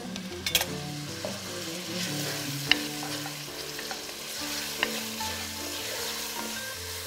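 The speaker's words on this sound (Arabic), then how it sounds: "المهم هنا عندي البصل تقلى" Onions frying in oil in a pan while preparing Lebanese maqluba, a steady close sizzle broken by occasional sharp clicks of stirring, with faint music running underneath.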